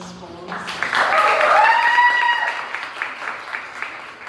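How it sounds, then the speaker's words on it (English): An audience at a poetry night claps for a poet's readings, a short swell of applause rising after a spoken introduction and fading within a few seconds. "Can we get one more round of applause for Emesa's poems?"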